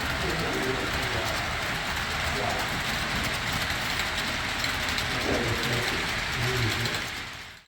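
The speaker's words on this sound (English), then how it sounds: "my kind of a shorter grain train with my baby, the CN 3008, the IC Heritage unit" A model grain train led by CN 3008, an IC Heritage locomotive, pulling ICG, IC and CC covered hoppers with a Chicago Central caboose, hums and clicks steadily along the track at close range without letup before cutting off at the end.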